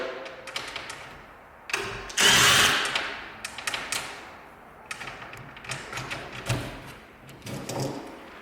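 Power drill driving out door hinge screws, short whirring bursts with one longer loud spin, interspersed with clicks and handling clatter from the door hardware, close and moderately loud.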